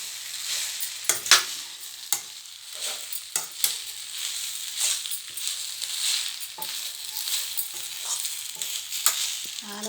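Gongura leaves frying in a pan until dark crackle and sizzle close by, broken by frequent sharp scrapes and knocks of a spoon stirring them at an irregular pace.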